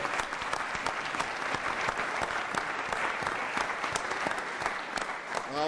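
Sustained audience applause in a room for state legislators at a meeting on federalism and state sovereignty, dense, even clapping throughout with faint crowd noise beneath.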